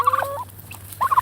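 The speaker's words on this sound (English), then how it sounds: "That's a male turkey." A male turkey gobbles twice, close and loud, with rapid warbling bursts at the start and end separated by a quieter gap over a low steady hum.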